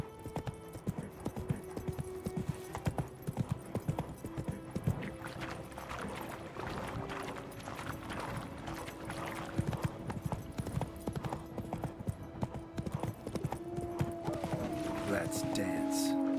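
Roach the horse in The Witcher 3 clip-clops in a steady hoofbeat rhythm, close and clear, with a tonal game score and someone talking over it.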